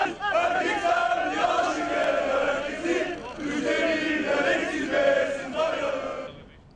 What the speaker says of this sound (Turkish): gün boyu adliye koridorları taraftarların tezahüratlarıyla